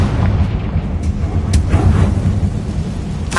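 A Confringo blasting spell from a Harry Potter game bursts in a deep, rumbling explosion that rolls on steadily, loud and close, with no talking.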